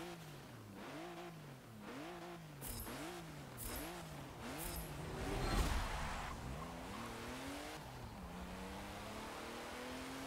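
A 1993 Porsche 911 Turbo S Leichtbau in Forza Motorsport 7 laps the Hockenheimring full circuit, its engine revving hard through rapid upshifts and sweeping pitch climbs, with brief tire squeals, loud and steady throughout.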